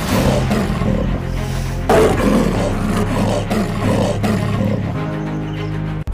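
A leopard caught in a forest department cage roars loudly and repeatedly, deep rumbling growls running almost without pause from start to finish.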